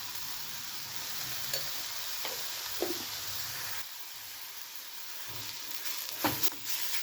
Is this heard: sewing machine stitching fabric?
no